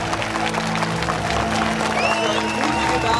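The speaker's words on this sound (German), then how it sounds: "Applaus für die Mutige." Studio audience applauding and cheering for a brave volunteer, a steady wash of clapping and crowd noise over background music, with a few voices mixed in.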